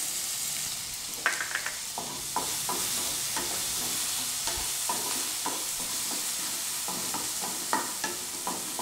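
Onions and dried chillies sizzle steadily in a hot pan while a spatula scrapes and taps through them in repeated strokes, a continuous close frying hiss with no talk.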